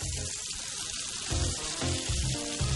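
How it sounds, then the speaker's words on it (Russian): Fish laid out across a hot frying pan, sizzling continuously with bursts of hissing and crackling that swell and fade in a few pulses, no talk over it. "Равномерно по всей поверхности горячей сковороды раскладываем рыбу"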